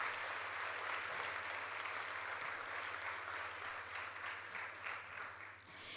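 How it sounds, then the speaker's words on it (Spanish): Congregation at a church convention applauding the Lord, a steady sustained wash of clapping over a low constant hum, fading slightly toward the end. "dale un aplauso al Señor"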